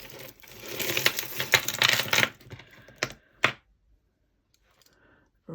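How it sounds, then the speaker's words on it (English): Loose jewellery beads are shifted aside on a desk, making a busy run of close, light clicks and rattles that end with a few separate taps before quiet. "I'll just move aside the loose beads"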